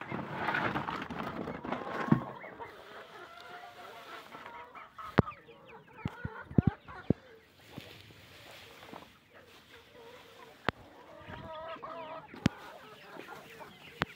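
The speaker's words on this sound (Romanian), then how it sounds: "Ce fac găinile astea aici?" Hens cluck intermittently around a farmyard at feeding time, low murmuring calls near at hand, punctuated by sharp clicks and knocks.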